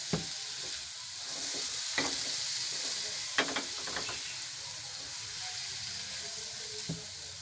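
Chicken egg roll stuffing cooks in a pan with soy sauce added, a steady sizzle and frying hiss broken by the scrape and clatter of stirring. No voices.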